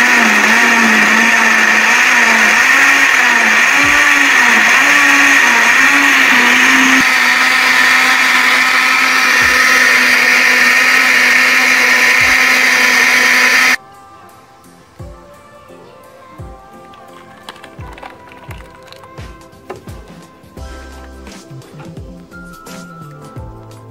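An electric blender whirs loudly, grinding coconut pieces with water in a steady, close motor drone that shifts pitch slightly before cutting off, followed by quieter clinks and handling sounds.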